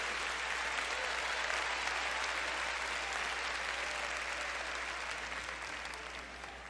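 A church congregation applauds steadily for several seconds, a dense, even wash of clapping that fades slightly toward the end, with no voices on top.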